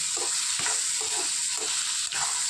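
Bitter gourd curry fries in a pan with a bright, continuous sizzle and a few soft stirring scrapes, close and fairly loud, with no speech.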